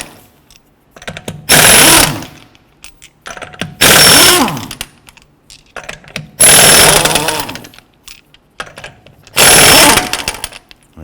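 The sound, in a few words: removing wheel lug nuts with a 19mm socket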